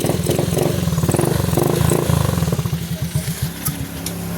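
A Honda Beat scooter with an engine error 52 fault starts up and runs, its small engine putting out a steady, close, pulsing idle rattle that continues evenly to the end.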